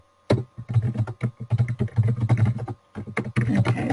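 Someone types on a computer keyboard at a modest pace, a close run of crisp key clicks in uneven bursts with a short pause partway through.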